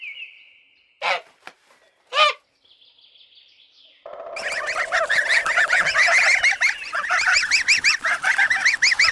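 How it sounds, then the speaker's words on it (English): Geese honk loudly and close by: a few separate calls at first, then a dense, overlapping chorus of repeated honks from a flock that continues to the end. "Goose."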